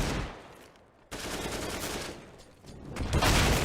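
Rapid, loud automatic gunfire in a Counter-Strike match on the Vertigo map, dense bursts running almost continuously with a brief gap near the start.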